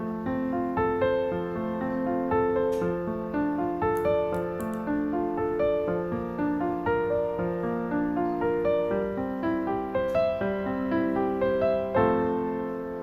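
Piano chord arpeggios played through inversions, an even, steady stream of broken-chord notes climbing and falling in a repeating pattern, clear and close, solo with no speech.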